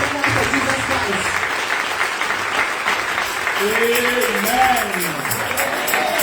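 A church congregation applauds and cheers loudly for Jesus Christ, steady clapping throughout with voices rising over it and someone speaking amid the crowd.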